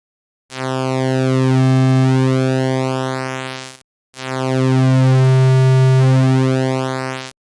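A steady synthesizer pulse-wave tone with a bright buzzy timbre, held in two long notes separated by a brief gap, loud and alone.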